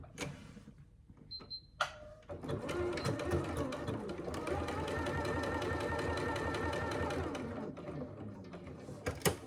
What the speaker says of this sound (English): just top stitch those longer edges down